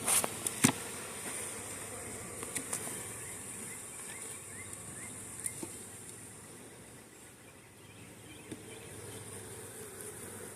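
A soft, continuous hum of bees buzzing around, faint and steady, with a few light taps and rustles.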